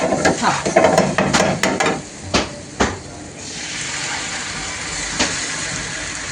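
A dry Khandeshi spice masala for shev latpat is sautéed in a pan, with a few seconds of sharp spoon-on-pan clatter giving way to a steady low sizzle.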